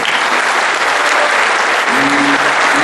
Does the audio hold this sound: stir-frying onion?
no